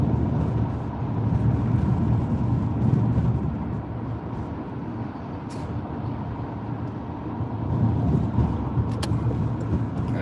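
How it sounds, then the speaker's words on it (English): Steady road traffic rumbles along a busy Las Vegas street, a continuous loud wash of passing cars and engines with gentle swells as vehicles go by, no talking. "See if we can get in there without getting run over by traffic."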